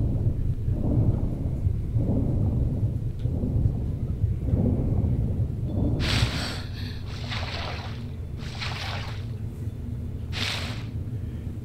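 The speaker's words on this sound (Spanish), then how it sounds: "Está lloviendo y se han oído rayos antes." Video game thunder and rain in Tomb Raider: a steady heavy rain hiss with deep rolling thunder rumbles, then several sharper bursts of downpour or crackling thunder later on, loud and continuous.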